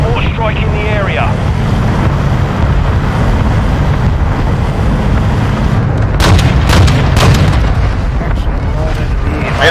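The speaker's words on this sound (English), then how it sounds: "Friendly hostile mortar strike in the area." Mortar strike explosions in Modern Warfare II ground war, loud rumbling booms and artillery-like blasts churning continuously with sharper cracks toward the end.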